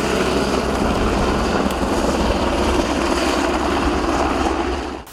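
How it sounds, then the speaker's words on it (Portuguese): Loud, steady thudding rotor roar of a nearby SAMU emergency medical helicopter arriving at Londrina airport, continuous until it cuts away abruptly at the end. "O helicóptero do SAMU chegou em Londrina por volta das 5h30 da tarde."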